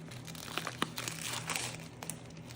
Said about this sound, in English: I've got some hot Italian sausage here. I am just using the Kroger brand, and I am just gonna get this cut open.